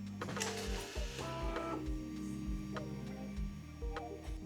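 Anycubic Kobra 4 Combo 3D printer running, with rhythmic stepper motor whirring and buzzing tones, repeated soft mechanical knocks and ticks at a steady pace, close and moderately loud with no talk.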